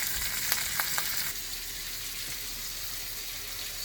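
An onion mixture frying in a pan while being stirred, giving a steady, close hiss with a few quick scrapes and taps of the utensil at the start, then an even sizzle.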